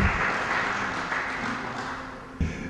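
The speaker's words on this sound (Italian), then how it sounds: "qui ci vuole un applauso" An audience at an Italian gathering applauds in a steady, dense wash of clapping that holds evenly for about three seconds, with a small burst near the end.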